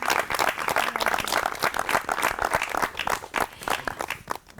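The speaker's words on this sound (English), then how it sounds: "Please, a round of applause for yourselves." A studio audience gives a round of applause at the end of a show, lively uneven clapping from many hands, fairly close, with a few individual claps standing out as it winds down.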